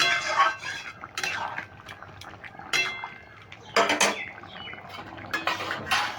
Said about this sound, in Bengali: চিনিটা দিয়ে আমি একটু নেড়ে নিচ্ছি